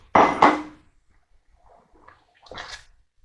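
Cheddar cheese being stirred into a pan of bolognese sauce: two sharp, close clanks of a utensil against the pot at the start, then faint soft stirring and a short scraping burst near the end, with no talking.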